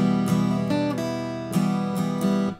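Guitar strummed in repeated chords, with brief single-note fills ringing between strums; clear and close, no voices.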